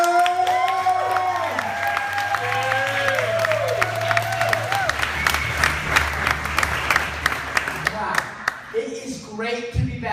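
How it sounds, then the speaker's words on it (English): A comedy club audience at the Coalition Theater applauding and cheering for an incoming comic, clapping building into dense applause with whoops, while music plays and an amplified voice speaks over it. "Let's put our thunderous applause together,"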